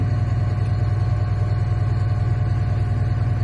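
A Caterpillar D6M bulldozer with a C7 diesel engine idles close by, a steady loud low rumble with a fine rhythmic clatter and no pauses.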